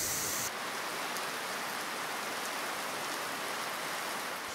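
Rain falls steadily through the forest of Tangkoko park on Sulawesi as an even, close hiss of drops on foliage, with no voices, after a brief higher-pitched noise at the very start.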